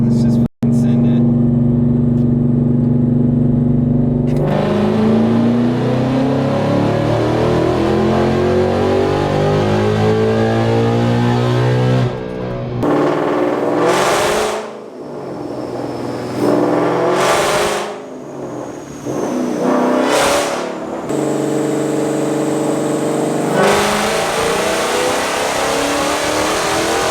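A 700+ horsepower car engine revs hard, accelerates and shifts through gears, loud and close throughout, with brief gaps at each shift before the roar builds again, and people talking over it.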